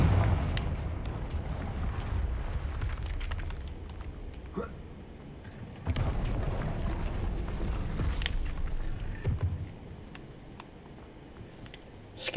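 Confringo fire spells from Hogwarts Legacy burst in a run of booming explosions of varying loudness, with two heavier blasts partway through, over a dense rumbling game soundscape.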